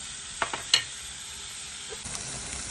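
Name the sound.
pumpkin pieces sautéing in oil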